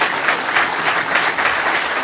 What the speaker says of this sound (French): Je vous propose d'applaudir Brice Teinturier